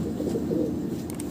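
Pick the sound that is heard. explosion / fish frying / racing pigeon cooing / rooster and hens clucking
racing pigeon cooing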